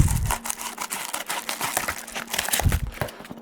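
Material being cut for an RC plane wing bag, a run of crisp crinkling, snipping and rustling noises close by, irregular and busy, with a louder crunch near the start and again toward the end.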